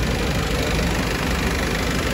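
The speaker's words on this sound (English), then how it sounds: "That's how one of these engines should sound." A 2016-onward Citroen Relay / Peugeot Boxer van's 2.0L diesel engine idles close by, giving a steady, even, loud rumble throughout with no talk.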